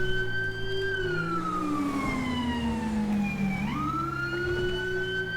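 Police car siren in Grand Theft Auto V, a loud close wail that glides slowly downward and then sweeps back up over steady engine rumble, with no talking.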